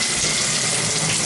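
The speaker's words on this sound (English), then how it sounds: "We have a sophisticated shower set up here." A shower with a narrow-beam head runs at strong pressure, a dense, steady hiss of spraying water close by that fills the whole moment without a break, no voices.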